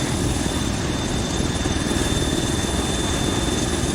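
A helicopter in a video game: its steady, loud rotor and engine drone fills the whole stretch, a continuous low thumping roar with no voices.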